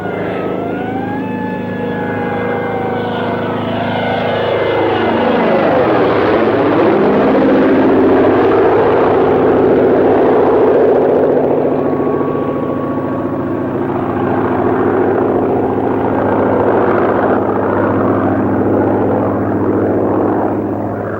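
An American propeller reconnaissance airplane passes overhead in a World War II setting, its engine drone swelling from moderate to loud and holding steady, with a Doppler-like pitch sweep as it crosses, alone without talk.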